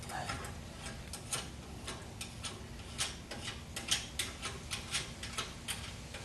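A wrench ratchets in quick repeated clicks while tightening a hanger bolt to pull up the tailpipe of a 1976 Corvette restomod's Pypes exhaust, the ticking close and uneven over a low hum.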